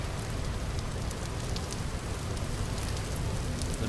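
Steady, even rain pours down in the Vintage Story video game, a continuous wash of patter with no talk over it.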